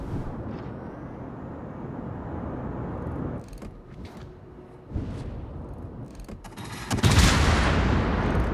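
Warship guns firing in a naval video game near a convoy, heavy booming salvos and distant blasts over a low rumbling sea-battle ambience, with a loud roaring burst near the end.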